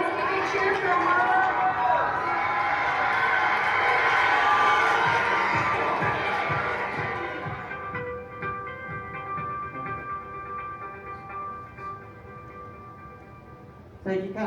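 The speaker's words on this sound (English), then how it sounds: "let's give a cheer for her" Audience cheering and shouting for the winner of a student case challenge at a Junior Achievement event, a loud crowd roar that swells for several seconds and then fades under a voice.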